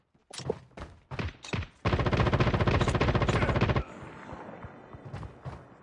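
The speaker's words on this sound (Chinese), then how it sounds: "还有哦，还有狙击声哦。" Gunfire in the Call of Duty Mobile battle royale game: several sharp single shots, then a loud burst of rapid automatic fire lasting about two seconds, fading into quieter rumbling.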